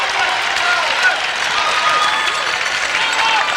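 A large arena crowd at the 1994 Lillehammer Winter Olympics applauds a men's long program figure skater, with sustained dense clapping and cheering over a commentator speaking.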